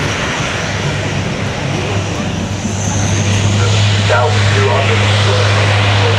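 Lockheed C-130J Super Hercules turboprop of the Royal Air Force transport fleet on the runway at the Farnborough Air Show, its engines droning loudly and steadily with a strong low hum, the roar swelling toward the end.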